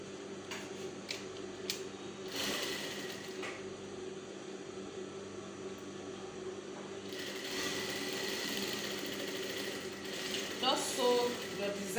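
A sewing machine stitches a sleeve seam in contrasting thread, giving a quiet mechanical whirr and clatter with light clicks, steadier and a little louder in the second half.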